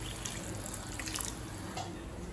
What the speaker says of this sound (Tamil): இப்போ கொஞ்சமாக தண்ணி சேர்த்துக்கலாம்.